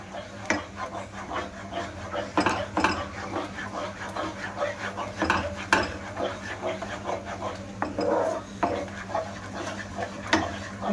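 Wooden spatula scraping and stirring thickened milk dough for milk powder gujiya in a pan, with irregular rubbing and scraping strokes and soft knocks against the pan, moderately close, under faint background hum.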